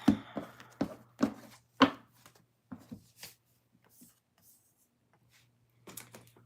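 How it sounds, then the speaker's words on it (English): Tarot cards are shuffled up close, a few quick papery riffles and slaps followed by softer handling and quiet pauses. "last shuffle"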